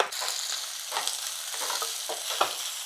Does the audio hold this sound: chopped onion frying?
yes